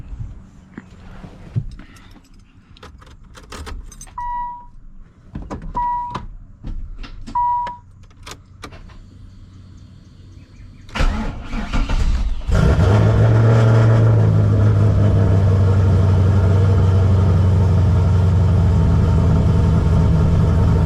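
Several faint beeps and clicks come first, then the LS-swapped Nissan 300ZX with a custom camshaft cranks and starts up, settling into a loud, close, rumbling idle that holds to the end.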